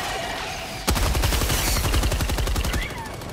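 A laser energy gun fires in Helldivers 2, with a rapid burst of repeated sharp shots that starts abruptly about a second in and runs nearly three seconds, loud and close.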